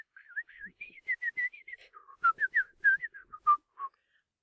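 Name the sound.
man whistling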